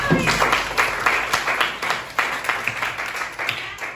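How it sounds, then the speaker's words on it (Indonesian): Hands clapping in a classroom, a dense burst of applause from a group that continues steadily over the whole stretch at close range. "Tepuk tangan dulu."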